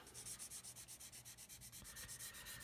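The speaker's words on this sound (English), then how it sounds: "now what I'm doing is I'm coming into the corner with the sanding stick" Rapid, rhythmic back-and-forth strokes of a sanding stick rasp against a hard plastic scale model part, close and steady, about eight strokes per second.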